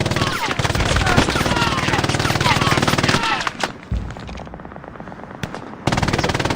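Bursts of automatic gunfire and rifle shots in the World War II shooter game Hell Let Loose, loud rapid rattling volleys that cut off, then a lull with scattered distant shots before firing resumes, with a player talking over it.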